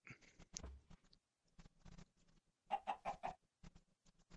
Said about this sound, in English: Shut up, chicken. You're lucky I don't have room. I'd chop you down just for clucking at me.